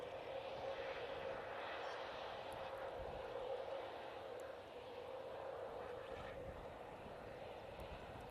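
An Airbus A320neo airliner on landing approach at Manchester Airport in crosswind gives a steady, moderately distant jet engine roar with a faint tonal whine, and a voice talks over it.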